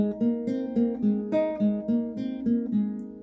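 A short guitar riff, quick repeated picked notes in a steady rhythm, played alone and close up.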